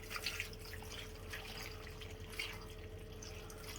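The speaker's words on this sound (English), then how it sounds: "And what I do with the water is basically just pour it on." Water splashes and trickles as it is poured over potatoes in a slow cooker, a quiet continuous pour with small irregular drips and splashes.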